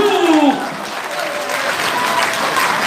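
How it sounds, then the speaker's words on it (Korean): Applause from a Korean political audience in a National Assembly members' hall conference room, a steady crowd clapping wash, moderately loud, with faint voices and a brief tonal sound near the start. "모두에게 박수!"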